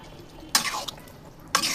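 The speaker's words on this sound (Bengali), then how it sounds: "লাড়া দিয়ে দিলাম" Two brief scraping stirs of a ladle in a pot of chicken tehari with rice, milk and water, one near the start and one near the end, close and fairly quiet with no talk.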